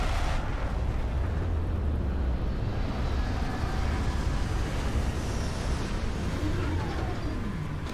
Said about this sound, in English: Retros firing.